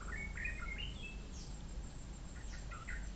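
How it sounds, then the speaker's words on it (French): Birds chirping and singing in a forest, several bright tweets and short trills at moderate distance over a steady low outdoor rumble, with no talking. "le son des oiseaux"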